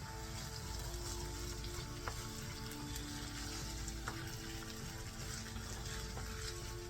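Ginger garlic paste fries in a pan as the base for butter chicken, giving a steady, even sizzle that holds for several seconds with a few faint clicks and no voices.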